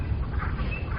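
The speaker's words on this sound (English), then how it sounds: "what you're hearing are the spring peepers" Overlapping spring peeper and green frog calls pour out of a marsh on a warm spring day, a continuous chorus with occasional higher chirps riding on top, no talking.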